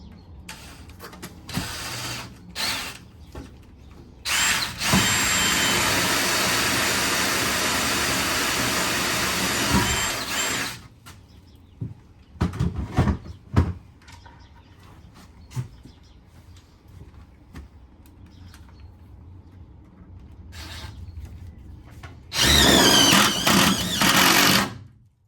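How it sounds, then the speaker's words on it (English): A power drill pre-drills into steel angle for a ceiling batten, a loud sustained whine running several seconds with shorter bursts and pauses between. Clanks and handling noises fall in the gaps, and the drill returns strongly at the end. "I'm going to pre-drill it."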